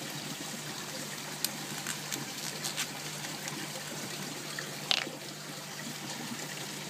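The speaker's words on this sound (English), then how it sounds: "Bottle shake." A water sample bottle for a nitrate water test is shaken by hand, producing a faint, steady liquid sloshing with a few soft clicks, quiet and close with no voices.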